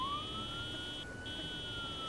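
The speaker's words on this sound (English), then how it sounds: "Police lights and a siren." A police siren wails in the zombie survival game Project Zomboid, holding a steady sustained tone with a faint rising sweep at the start, loud and continuous with no voices over it.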